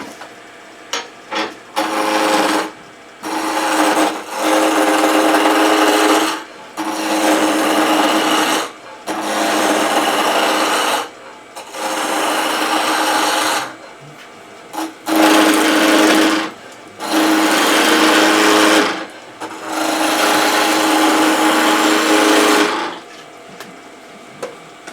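A wood lathe cuts a wooden finial in repeated bursts of a few seconds each, a loud whirring, scraping whine that stops and starts about eight times with short near-silent gaps between.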